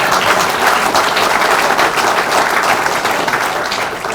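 A room full of people applauds during a mayor's civic speech, a loud, steady wash of many hands clapping at close range that eases slightly toward the end.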